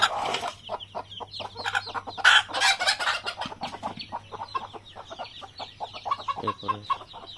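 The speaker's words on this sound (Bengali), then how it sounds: "মা মুরগির বাচ্চা আছে, দেখেন কি সুন্দর বাচ্চা, দেশি মুরগি দেখেন কত সুন্দর" Native village hen with her chicks, clucking in a steady run of short, repeated calls, with thin chick peeps mixed in, close by and alone.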